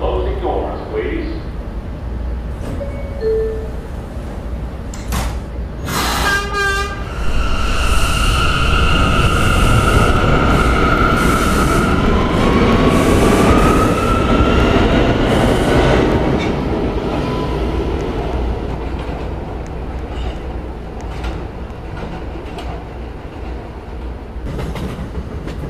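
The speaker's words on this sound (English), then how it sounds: "This is a Catlin bound E train." An E train on the New York City subway moves through Herald Square station, a loud steady rumble and rattle of cars with a brief squeal early on, under an automated announcement voice.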